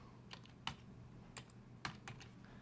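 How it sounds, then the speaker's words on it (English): Several light keystrokes on a computer keyboard, spaced irregularly and soft against a faint steady hum, with no one speaking. "You're going to type in Lambda."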